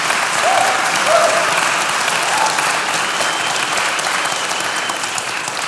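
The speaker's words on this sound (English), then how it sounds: "a little bit of a little applause to encourage our dear panelists" A crowd applauds steadily, with many hands clapping in a continuous, even wash that fades slightly toward the end.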